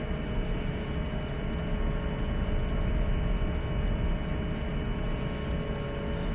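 Heavily loaded airplane, carrying maximum fuel and cargo, on its takeoff roll: a steady, loud, broadband engine roar and rumble that holds evenly throughout, with no talk.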